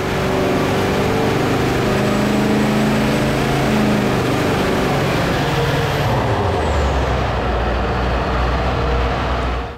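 A diesel truck engine roars steadily at full throttle on a dynamometer during an exhaust comparison between a DPF and a 5-inch delete pipe, loud and unbroken for most of the stretch before the revs drop near the end.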